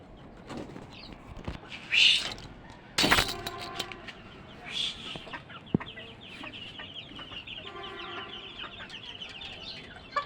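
Native hens on a small farm cluck and call in short bursts, with wing flaps and scattered scratching; the birds sound fairly close and no one speaks.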